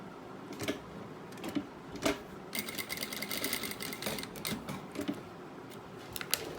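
A sewing machine stitches fabric for a cushion, running in short rattling bursts with brief pauses and one longer steady run in the middle, quiet and close, with no voices.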